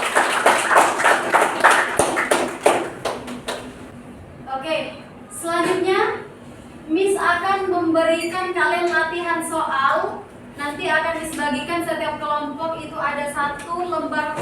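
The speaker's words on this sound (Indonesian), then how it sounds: "Oke, tepuk tangan dulu untuk kita semua." Children in a classroom give a brief round of quick clapping at the start, which then gives way to a teacher talking.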